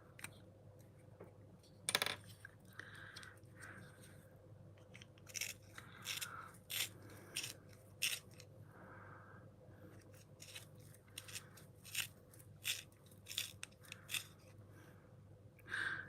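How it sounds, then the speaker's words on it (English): A brow pencil being sharpened, giving a quiet run of small crisp scraping and clicking bursts in irregular succession, close but faint, with no talking. "I need to get my brow pencil. I'm going to sharpen it,"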